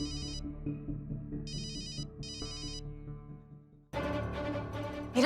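A mobile phone ringtone in a Hindi TV drama plays a bright, repeating electronic melody in short bursts, then becomes louder and fuller near the end, with no talking over it.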